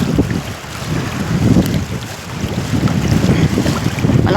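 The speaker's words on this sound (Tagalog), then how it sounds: "Malakas kasi yung alon." Strong sea waves slapping against a small boat offshore, a continuous loud rush of water and wind buffeting with surging swells rising and falling, no talk.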